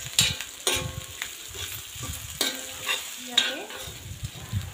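Spices are stirred in a pan for potato masala rice with chilli and Kashmiri chilli powder: a spoon scrapes and clanks in irregular strokes over a soft, faint sizzle, close by and with no talk.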